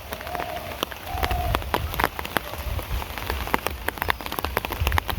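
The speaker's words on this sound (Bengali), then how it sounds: "বৃষ্টি নেমে পড়ছে" Rain falling steadily on surfaces around a home garden with chili plants, with a continuous hiss of many close droplets and sharp irregular taps scattered throughout, with no talking.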